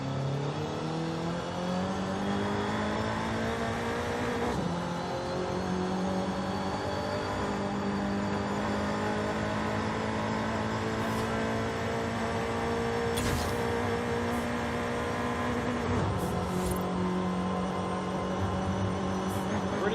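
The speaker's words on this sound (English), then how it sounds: "I just want to send this thing down the interstate so you can kind of get a feel of the car." A stock 1.6-litre Nissan Sentra Nismo engine in Forza Horizon 5 drones steadily at speed down an interstate, its tone rising through gears with brief dips at shifts, loud and continuous.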